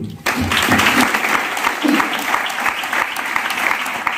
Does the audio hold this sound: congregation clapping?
yes